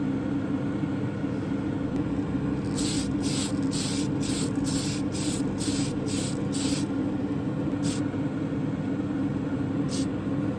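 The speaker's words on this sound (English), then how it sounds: "Tamiya surface primer from a rattle can and not from the airbrush" Short hissing bursts of Tamiya surface primer from a rattle can, about eight quick sprays in a row and then two isolated ones, over a steady low hum of room noise.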